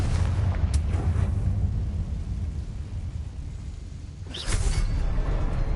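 In Hogwarts Legacy, a Confringo spell blast erupts as a sudden whooshing boom late on, rising out of a steady low rumble of game ambience.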